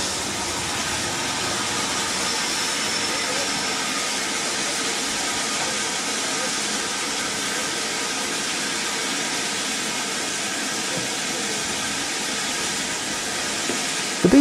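LNER B1 class steam locomotive 61264 arriving at Grosmont gives a steady, broad hiss of steam and rumbling rail noise that holds evenly throughout, fairly loud and without talk.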